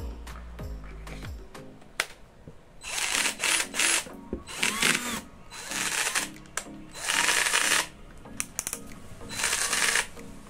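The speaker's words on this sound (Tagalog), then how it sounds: "Ito naman, try natin. Impact drill." An INGCO cordless impact drill runs in several loud bursts of whirring and rattling, each lasting about a second, with brief pauses between them and quieter handling clicks in the gaps.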